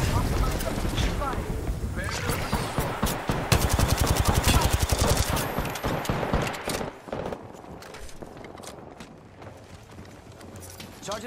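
Gunfire in the video game Apex Legends comes as rapid, loud automatic bursts that build and then thin into scattered shots, mixed with game effects and voices.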